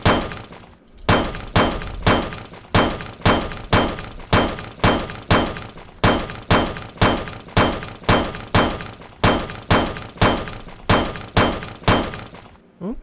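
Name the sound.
mining iron with pick in video game Elmlor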